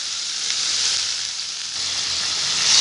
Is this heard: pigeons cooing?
no